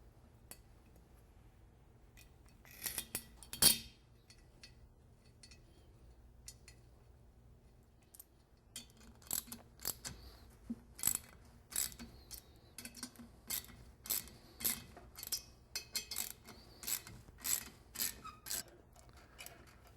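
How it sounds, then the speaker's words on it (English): Ratchet tightening bolts into the puller holes of a brake drum, heard as steady, regularly spaced metallic clicks after an earlier louder clank, close and fairly quiet in a still room. "You just take two bolts, put them in there, tighten the bolts up, and as you tighten them, the drum will come off."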